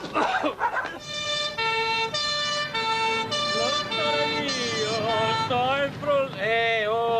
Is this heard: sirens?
yes